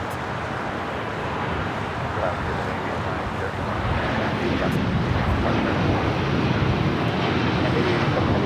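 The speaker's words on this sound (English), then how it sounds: "Green Air A380 Super making that left-hand turn, heading into the gates there on the southwest corner of Tom Bradley." An Airbus A380 taxiing at LAX gives off a broad, steady roar that swells gradually, heard at a distance beneath wind noise and a talking voice.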